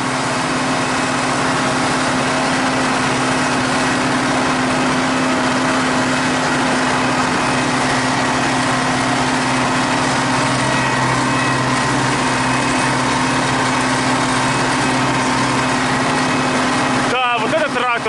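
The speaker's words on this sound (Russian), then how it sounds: "вот этот трактор у Олега, вот этот прет, а?" A T-150K tractor engine runs steadily outdoors near a tractor drivers' bonfire, a constant droning idle with a strong low hum, continuous and loud, with a brief burst of other noise near the end.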